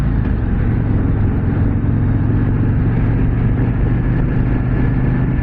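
A 2024 Harley-Davidson Street Glide motorcycle engine drones loud and steady while riding, a continuous low rumble with rushing wind noise and no pauses.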